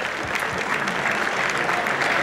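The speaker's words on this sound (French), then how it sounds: "On l'applaudit encore une fois, s'il vous plaît" Crowd applause at a King of Fighters XIII fighting game tournament final, a steady wash of many hands clapping at moderate distance, sustained evenly without pause.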